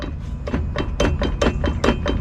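Repeated metallic knocks from the front driveshaft of a Jeep Grand Cherokee, about a dozen sharp hits in an uneven rhythm, close and fairly loud over a low background rumble.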